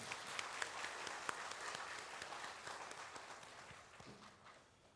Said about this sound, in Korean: 박수 한 번 더 하지요.